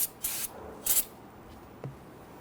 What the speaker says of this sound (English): Use some spray solvent to clean up any of that residual brake fluid.